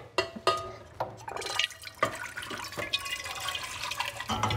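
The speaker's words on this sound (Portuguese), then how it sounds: "uma panela grande, colocar água" Water pours from a tap into a large cooking pot, a steady rushing splash with a few sharp clanks of metal at the start, continuing for several seconds without talk.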